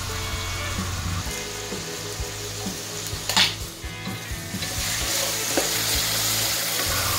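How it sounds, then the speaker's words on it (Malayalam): Chopped green chillies sauté in a pan with a loud, continuous sizzle. Light scraping and stirring knocks come through now and then, with a sharper scrape near the middle and no speech. "ഇനി ഇതെല്ലാം നന്നായിട്ട് വഴറ്റി കൊടുക്കുക."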